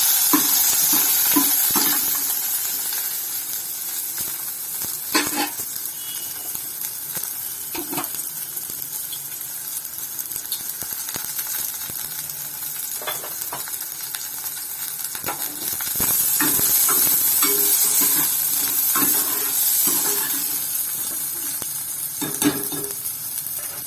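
Onions sizzle steadily in hot oil in a pan for colocasia leaf sambar, with occasional louder bursts and spoon scrapes as they are stirred, continuous and close throughout.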